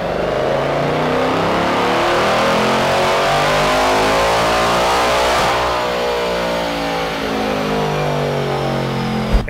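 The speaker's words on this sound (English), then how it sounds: "We always like to do multiple pulls just to validate what the car is doing." A 2024 Mustang GT's engine revs hard and loud through a dyno pull, climbing steadily in pitch with rising harmonic sweeps before easing off near the end.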